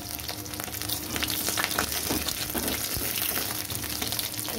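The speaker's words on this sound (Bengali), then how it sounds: "এবার আরেকটু ভাজা হবে" Loita (Bombay duck) fish frying in a pan, a steady dense sizzle with crackling pops throughout, close and fairly loud with no voices.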